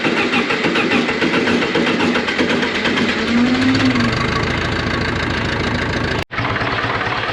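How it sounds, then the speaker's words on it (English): An old John Deere tractor's diesel engine fires up and settles into a loud, steady, close idle that runs the whole time, with one brief cutout near the end. "let's go ahead and get the old John Deere fired up"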